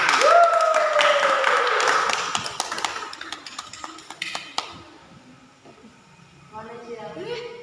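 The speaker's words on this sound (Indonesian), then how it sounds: "Kita berikan tepuk tangan" Children clapping their hands at an orphanage in Bali, scattered uneven claps under a voice at first, then thinning to a few sharp individual taps, with talking resuming near the end.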